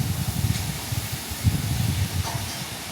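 Fish curry masala sizzling and hissing steadily in a pan as it is sautéed, a continuous close frying sound with no talking.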